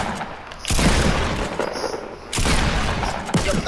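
Pistol gunfire in the Fortnite video game comes in loud bursts of shots with short gaps between them.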